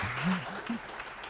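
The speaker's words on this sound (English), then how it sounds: "A hand of applause to Mr." A short burst of audience clapping at a conference session for a speaker, mixed with a voice talking over it.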